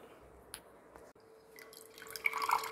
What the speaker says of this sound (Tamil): இப்போ அதையும் ஊற்றிட்டு பால் எடுத்துக்கலாம்